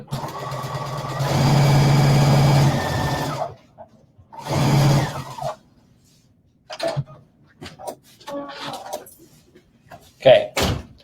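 A sewing machine runs a quarter-inch seam while piecing a quilt block, two bursts of steady whirring stitching followed by scattered knocks and handling sounds, with a person talking in between.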